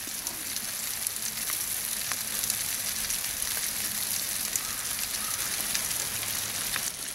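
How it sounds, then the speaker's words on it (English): Brook trout cooking on hot campfire coals give off a continuous sizzling hiss, peppered with soft pops and crackles, heard up close without any talking. "sizzling away on the coals here with the trout."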